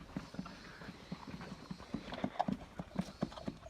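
Hungarian Mangalica pigs chomping their feed, a close, rhythmic run of wet smacking and clicking bites that repeats steadily with no talk over it.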